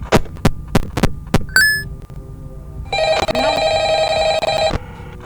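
A mobile phone rings with a steady electronic tone that sounds for about two seconds after a series of sharp clicks and taps, with no talk heard.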